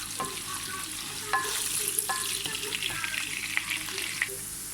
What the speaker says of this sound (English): I'm going to be frying my gizzard for about 3 to 5 minutes.